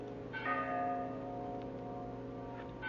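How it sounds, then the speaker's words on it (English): A bell rings from deep in a gorge as a radio drama sound effect, its sustained, ringing tones swelling and lingering steadily over about three seconds. "A bell. I think it comes from way down there in the gorge."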